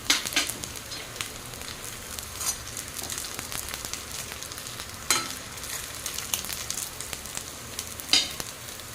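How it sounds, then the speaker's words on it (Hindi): Tikki shallow-frying in a little oil in a kadhai, a steady soft sizzle with occasional louder crackling pops, close and continuous with no talking. "इसमें थोड़ा सा ही ऑयल डाल रही हूँ और अंदर ही सेक रही हूँ।"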